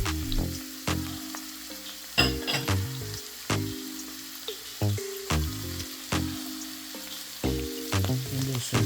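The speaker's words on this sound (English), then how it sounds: "we're going to let these ingredients saute for a while, till they become a little translucent" Ingredients sauté in a pan, heard as a soft sizzle under repeated sharp scrapes and knocks of a utensil stirring at a fairly regular rhythm, close by.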